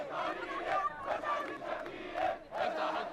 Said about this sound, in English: The crowd tries to break through the cordon to harangue Prime Minister Shafiq at the parliament buildings, but tanks block their path.